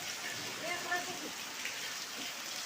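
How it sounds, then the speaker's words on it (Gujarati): Steady rain falls outdoors during a wet spell, a soft continuous hiss of drops on surfaces with a brief, faint vocal sound in the background. "હજી વરસાદ પડે બહુ"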